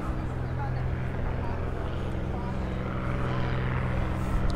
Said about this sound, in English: That noise is an aeroplane buzzing around above us.